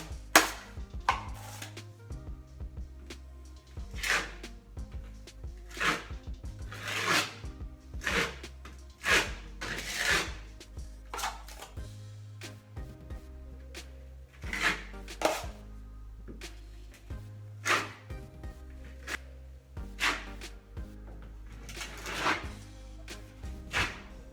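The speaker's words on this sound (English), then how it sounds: "Mix up a little 5-minute mud." A taping knife works 5-minute drywall setting compound in a pan, giving a steady run of close, sharp scraping clacks and taps over a low background hum. The work is part of a drywall patch around a plumbing pipe.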